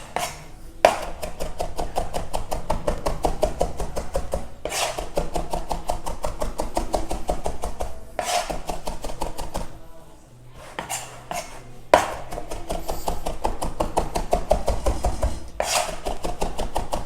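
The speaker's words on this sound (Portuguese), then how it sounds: "Tem que picar bem picadinha a cebola mesmo" A knife finely chopping onion on a board for bacalhau rice, fast steady taps in long runs broken by short pauses and louder scrapes, close and clear with no talking.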